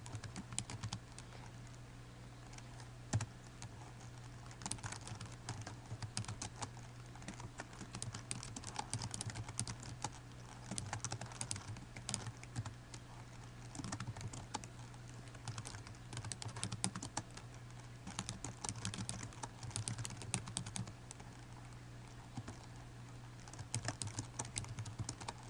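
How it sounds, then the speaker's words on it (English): Steady computer keyboard typing runs throughout, a dense stream of quick clicks and key taps at close range over a low constant hum. "now we're going to go ahead and continue typing."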